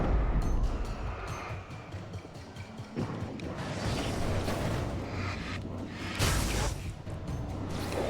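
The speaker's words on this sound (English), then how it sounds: "Okay, flashbang." Flashbang grenade in Alan Wake, a dense roaring burst followed by sustained rumbling noise, with a bright loud swell near the end and no clear talk.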